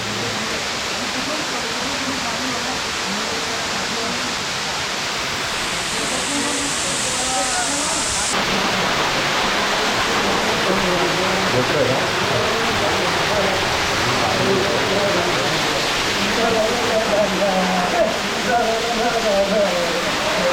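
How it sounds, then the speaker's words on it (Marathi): Monsoon water pours down from above over a deep drop on the Waghbil jungle trek near Badlapur, making a loud, steady broadband rush that fills the whole stretch, with a brief shift partway through. "मस्त पाणी भरत आहे वरून, खाली खोल आहे"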